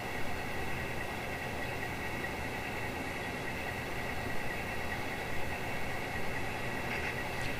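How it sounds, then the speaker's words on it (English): Small HO scale model trains whir and hum steadily on their tracks, a continuous faint mechanical drone with a light motor whine. "When they were all running, there were four freight trains, two six-car passenger trains, and two passenger liners"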